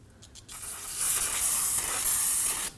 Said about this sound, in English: I'm going to go ahead and use some brake parts cleaner